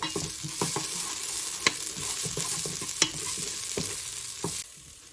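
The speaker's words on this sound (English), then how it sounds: "we're gonna cook these until they're brown every which way" Onions sizzling and frying in a pan, a constant close crackle broken by regular scrapes and clicks of a utensil stirring them, no voices.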